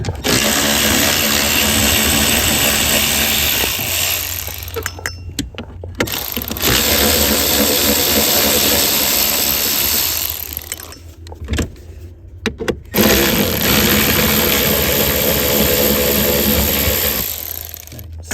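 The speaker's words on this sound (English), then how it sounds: "There's 3 8mm screws, one here, here, and here. I'll take those out real fast." Power tool running in bursts as three 8mm screws are backed out of the knee trim panel under the dashboard of a 1994-1997 Ford Thunderbird or Mercury Cougar, loud and close with short pauses between screws.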